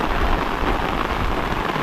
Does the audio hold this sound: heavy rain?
yes